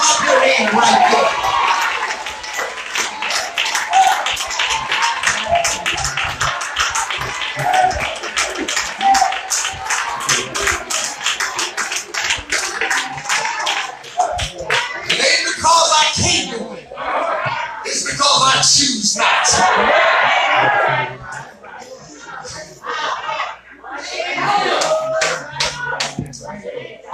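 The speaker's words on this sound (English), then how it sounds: "you ought to clap your hand right there." A church congregation claps and laughs during a Sunday morning worship sermon, bursts of applause and chuckles rising and falling across the room, with the preacher's voice continuing over and between them.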